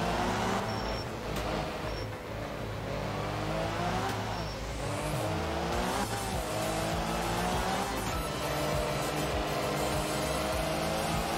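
A Mini rally car is driven flat out in Art of Rally, its engine revving hard and steadily with pitch rising and falling through gear changes, and occasional tire squeals throughout.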